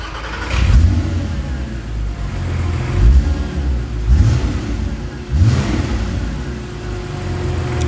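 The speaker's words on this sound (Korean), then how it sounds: "우선 가변을 닫고 시동을 걸겠습니다" A Porsche Cayman S 987 with its variable exhaust valve closed runs close and loud, revving in four rising blips over a steady, muffled idle.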